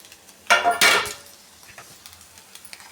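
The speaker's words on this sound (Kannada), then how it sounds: "ಇವಾಗ ಆಲೂಗೆಡ್ಡೆ ಫ್ರೈ ಮಾಡಿರೋದನ್ನ ಒಂದು ಸೈಡ್ ಹಾಕೋತಾ ಇದ್ದೀನಿ" Fried potatoes are pushed to one side of a pan, making two quick, close scraping clatters of utensil on metal, followed by faint, scattered taps.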